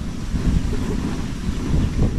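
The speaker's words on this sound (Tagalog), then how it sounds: "lakas ng hangin" Strong wind buffeting a microphone outdoors, a steady low roaring rumble that swells and gusts louder toward the end, with no other clear sounds.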